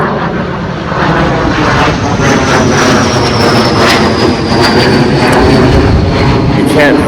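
A noisy fixed-wing plane flies overhead, its loud continuous engine roar filling the whole stretch, with a person speaking outdoors underneath it.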